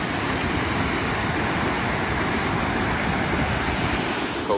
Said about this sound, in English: Little waterfall for you there